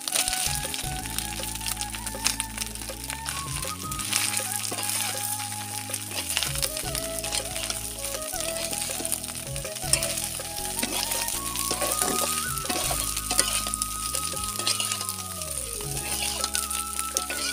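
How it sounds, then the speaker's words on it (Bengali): Pre-fried cauliflower and potatoes sizzle steadily in a frying pan with ginger, a close, continuous crackling fry with light stirring and scraping, while background music plays underneath. "তো এখন আমি এই যে ভেজে রাখা ফুলকপি আর আলু দিয়ে দিব।"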